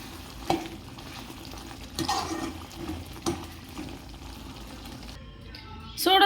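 Coriander leaves being stirred into hot chicken gravy in a pan: a low, steady bubbling sizzle with a few soft scraping strokes of a spoon. The sound runs continuously, a little louder near the end, and no one speaks over it.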